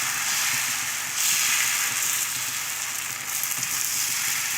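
Dosa batter sizzling on a hot pan, a steady, loud, bright hiss that swells slightly partway through, with no talk.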